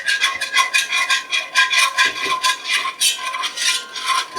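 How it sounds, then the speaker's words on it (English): A whisk scrapes rhythmically through flour in a pan for Salisbury steak gravy, brisk close strokes repeating about twice a second with metallic rasping and no talk. "And we're going to keep whisking."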